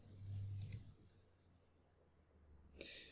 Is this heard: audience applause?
no